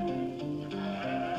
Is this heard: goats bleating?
yes